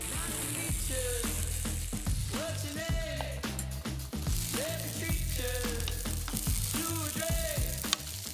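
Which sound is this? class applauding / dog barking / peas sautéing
peas sautéing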